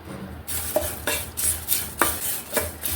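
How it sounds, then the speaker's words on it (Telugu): Curry leaves dry-fry in a pan while a utensil stirs and scrapes them. Crisp rustling and sizzling come with rhythmic metallic scrapes every half second or so, close and clear, with no talking. "కరివేపాకు కూడా వేగిందండి."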